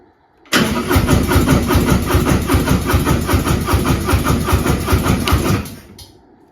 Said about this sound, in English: The starter motor would keep kicking over, and nothing would happen, and eventually it would shut off.